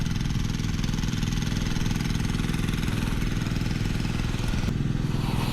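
Water pump engine running for deep well irrigation on a farm plot, a steady close chugging drone with fast regular pulses, loud and unbroken from start to finish.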